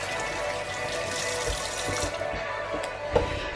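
Tap water running steadily into a sink while hands are rinsed during baking, a close continuous splashing hiss with a small clunk near the end, no talking.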